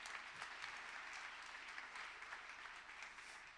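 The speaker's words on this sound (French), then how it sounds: "Vous pouvez l'applaudir." An audience at a women's event applauds a speaker, steady even clapping that sounds faint and distant throughout.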